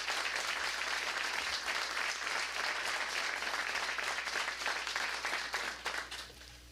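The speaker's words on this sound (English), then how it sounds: "So I think he deserves a round of applause." A crowd at a press event about the Memphis Showboats pro football team's return gives a sustained round of applause, dense and steady, tapering off at the very end.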